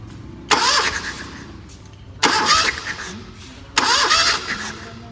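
Three separate cranking bursts of a car engine being turned over on the starter during a cylinder compression test. Each burst lasts about a second, rises abruptly and fades, with quiet pauses between them.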